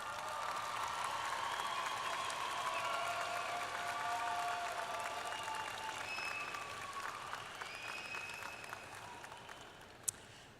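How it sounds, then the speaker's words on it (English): An audience at a spring university commencement applauds in a sustained wash of clapping that swells and then slowly fades, with faint cheers and whistles above it and one sharp knock near the end. "let's give them a huge round of applause"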